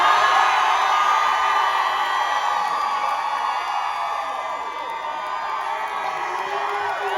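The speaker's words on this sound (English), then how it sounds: "I want you guys to make a lot of noise on the count of 3 in the crowd" A college audience at a comedy gig cheers, whoops and yells in a loud, sustained roar that holds steady throughout without letting up.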